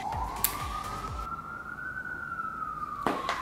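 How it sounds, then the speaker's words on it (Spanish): An emergency siren wails on a New York City street, one long rising and falling sweep that stays loud and fairly close, with brief sharp traffic noises breaking in at the start and near the end. "Esto es Nueva York. Todas las veces con sirenas, cosas..."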